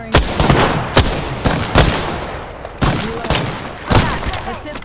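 Gunfire in Apex Legends: loud, close bursts of shots come in about six sharp clusters, each one followed by a short rumbling tail, with no talk over them.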